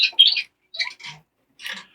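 Birds freshly placed in show cages give a few short, close chirps and tweets in three separate bursts, with brief silences between and no talking.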